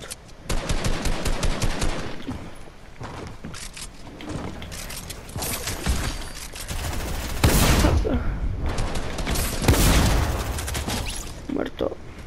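Rapid gunfire in an online shooter game, loud bursts of shots rattling in quick clusters with heavier cracks standing out, all under constant game noise and voices talking.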